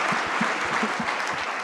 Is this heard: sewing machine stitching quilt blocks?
no